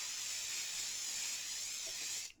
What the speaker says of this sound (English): So I am just using some hairspray, and I'm going to give it a gentle spray.